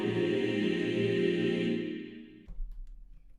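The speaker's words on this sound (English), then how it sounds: "the riser that I use is a choir movement that sounds like this." A sustained choir chord serves as a musical riser, its voices swelling and holding thick and full before the sound cuts off abruptly, leaving a brief low rumble behind.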